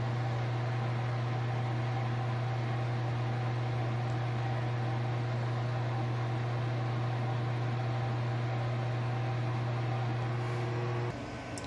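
A washing machine runs on off-grid solar power, giving a loud, steady mechanical hum with a strong low drone that continues unbroken before dropping slightly at the very end.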